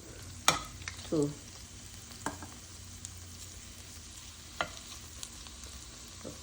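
Seasoned shrimp going into a hot pot, a low steady sizzle with a few sharp clanks and scrapes scattered through, close and fairly quiet, with one brief spoken word.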